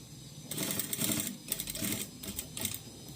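A sewing machine stitches piping around a corner, its motor whirring in several short bursts broken by brief pauses, close and moderately loud with no talk.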